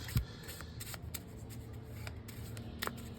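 Playing cards being shuffled for a fortune-telling reading, a soft riffling flutter running through the whole clip with a few sharper snaps, close by and quiet, no talking.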